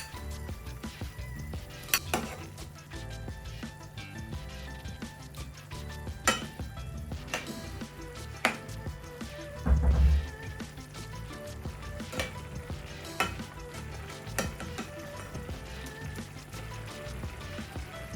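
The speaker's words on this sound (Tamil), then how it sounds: "இப்போ இந்த கொதிக்கிற இந்த மசாலாக்குள்ள நான் இந்த எண்ணெயில பொரிச்சு வச்சிருக்கிற இந்த பன்னீரை போட போறேன்" Continuous sizzling and bubbling in a pan as fried paneer is added to simmering masala, with occasional stirring scrapes and a soft thud of something dropped in, no talking.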